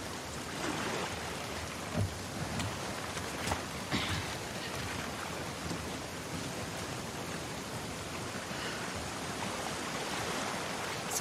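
Rain falls steadily and densely in The Last of Us Part II, a continuous hiss with scattered louder patters and drips, moderately loud and with no voices over it.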